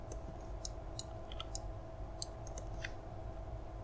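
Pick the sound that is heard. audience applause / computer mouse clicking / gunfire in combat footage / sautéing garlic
computer mouse clicking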